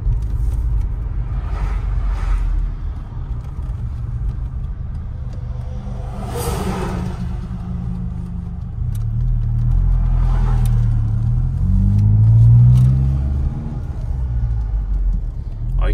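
A 1993 Saab 900 Turbo S 16v Aero coupé drives during a gentle engine break-in, its low engine rumble rising and falling through slow gear changes, with one rev climbing in pitch near the end, heard from inside the car.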